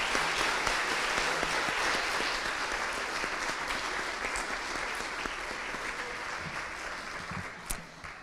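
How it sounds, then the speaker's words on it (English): Audience gives a sustained round of applause for guests at a school show, dense clapping steady throughout with no talk. "Let's give these wonderful guests today one more round of applause"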